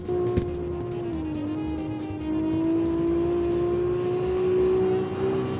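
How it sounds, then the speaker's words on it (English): A steady droning car engine in the video game CarX Street hums with a slightly muffled exhaust tone, as if heard from the interior, pitch rising gently as it holds on. "Certain cars may have weird buggy engine and exhaust sounds as well"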